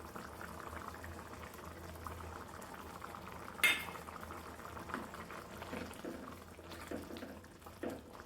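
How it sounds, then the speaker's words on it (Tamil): A covered pot of chicken curry bubbles at a steady low simmer, a soft continuous burble with one sharp clink of metal partway through, no voices. "இப்போ நல்லா கொதிக்குதுங்க."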